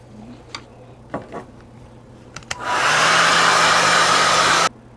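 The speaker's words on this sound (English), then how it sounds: "So I'm going to go ahead and dry that layer." After a few small clicks and taps, a hair dryer switches on to dry a layer of watercolor paint, blowing a loud, steady, close whoosh for about two seconds before cutting off abruptly.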